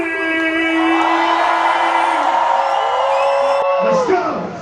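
At an outdoor city festival in Stockholm, the crowd screams and cheers in a loud, sustained roar, led by a prominent held shout that fades toward the end.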